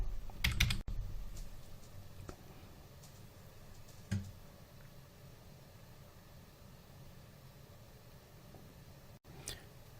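Computer keyboard typing, a few scattered keystroke clicks with one louder burst near the start and another a few seconds later, faint and mostly sparse over a low background hum.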